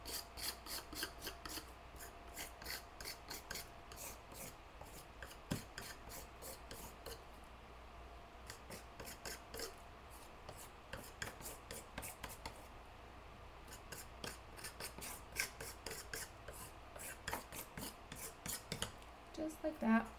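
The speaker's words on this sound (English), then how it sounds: "And then I'm going to take some heavy gesso and scrape it" Heavy gesso scraped across a canvas with a palette tool or card, making a steady run of dry rasping and scratching strokes in quick repeated bursts, fairly close and moderately quiet, with no talk over it.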